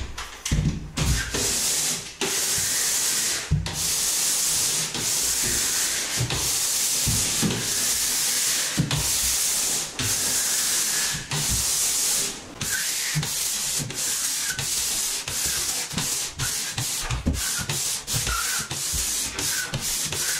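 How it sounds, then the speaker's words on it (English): Continuous scratchy strokes of 180-grit no-fill sandpaper on a pole sander rasp back and forth across a ceiling in long, rhythmic passes, loud and close, with brief pauses between sweeps. "sanding these with a 180 no-fill sandpaper"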